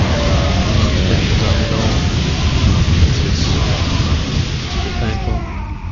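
Psionic storm crackling across a StarCraft II battle as a loud, continuous hiss and rumble that holds steady for several seconds.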